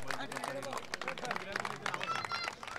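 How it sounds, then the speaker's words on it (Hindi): Applause from a crowd at a volleyball trophy prize ceremony, dense clapping held throughout while an announcer's voice carries over it. "जोरदार तालियां इसके लिए भी बजनी चाहिए"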